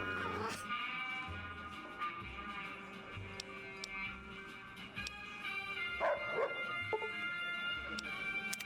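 A dog in the video game Fallout: New Vegas gives several short barks and yips with a faint whimper, fairly quiet and scattered over background game music and ambience.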